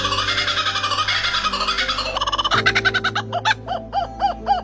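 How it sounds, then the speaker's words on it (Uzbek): Kookaburra giving its laughing call, a loud, close series of rising cackles that becomes a rapid, rhythmic hooting chatter toward the end, heard alone with no talking. "Kokobar, uning ovozi xuddi kimdir kulayotgandek eshitiladi"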